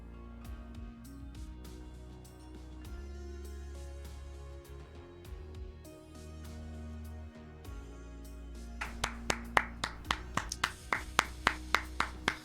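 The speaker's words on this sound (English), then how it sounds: "Clap him into the locker room." Rhythmic clapping by hands near the end, sharp evenly spaced claps rising over a busy background of music and crowd noise in a sports setting.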